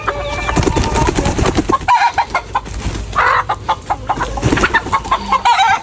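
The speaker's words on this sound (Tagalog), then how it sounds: "finally, nahuli na rin natin ang inahing kulay puting manok" A plump white hen, just caught by hand on a farm, clucks loudly and repeatedly at close range, with agitated squawks and handling noise mixed in.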